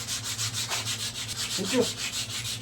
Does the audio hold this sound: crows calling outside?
no